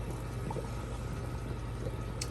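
Plaster investment washing out of a freshly quenched silver casting tree, with a steady low bubbling and gurgling in water and a few soft drips throughout, no talking.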